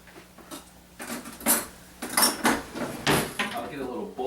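A little bowl or plate is fetched in a kitchen, with several clinks and clatters of dishes and cutlery in an irregular series, fairly close and moderate in loudness.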